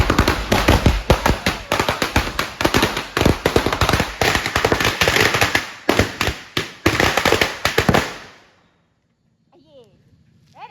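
Vishu firecrackers bursting in a rapid, loud string of cracks and pops for about eight seconds, then stopping abruptly into near silence, with a faint voice heard afterward.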